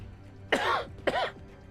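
Two short, close coughs about half a second apart, each a sharp rasping burst followed by quiet room tone.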